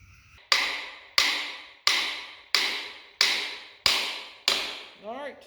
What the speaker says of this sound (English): let me just knock that hub on there and we'll tighten everything up